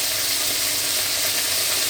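Spice paste with chili, cumin and coriander powders sizzles steadily in a hot pan, a loud continuous frying hiss with no pauses.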